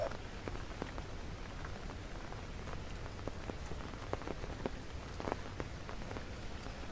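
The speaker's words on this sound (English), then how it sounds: "We don't have that rain every day." Steady rain patters on a surface, a soft continuous hiss dotted with individual drop taps, fairly faint and even throughout with no voices.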